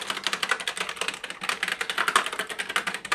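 Rapid, steady typing on the keyboard of an old Sun Microsystems Ultra 60 computer, loud and close, with dense key clicks and no talk.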